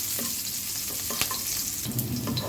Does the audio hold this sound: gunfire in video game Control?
no